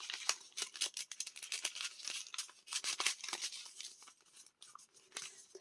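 Paper crinkling and rustling as a sheet is folded and tucked into a one-page book craft, close up, with dense irregular crackles and short rasps that run on continuously and go briefly quieter near the end.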